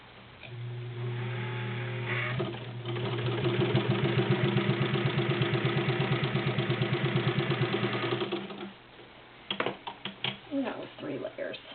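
A vintage Necchi BU heavy-duty sewing machine runs steadily, stitching through three layers of fabric with a rapid, even mechanical chatter lasting several seconds, then slowing to a few separate clunks as it stops.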